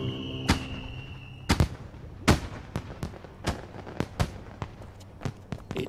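Volley of gunshots in the animated series Nomad of Nowhere: a string of sharp, loud cracks at irregular intervals over about six seconds, some close together, with faint background tones underneath.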